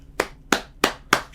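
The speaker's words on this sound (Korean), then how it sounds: "박수 쳐드리고 싶어요." Four crisp hand claps in a slow, even rhythm, close and dry against near silence.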